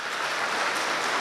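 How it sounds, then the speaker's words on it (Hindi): Applause from a school audience in Nagaur, a steady, even hiss of many hands clapping at moderate volume throughout the short stretch, with no voices. "सबसे पहले इनके लिए ताली बजनी चाहिए।"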